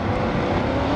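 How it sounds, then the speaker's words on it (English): A 1974 Plymouth Fury drag car with a 440 cubic inch engine at Milan Dragway, a loud, steady, broadband engine roar filling the whole second without a break. "that 74 Plymouth Fury is powered by a 440 cubic inch engine"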